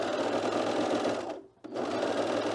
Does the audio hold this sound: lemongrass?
no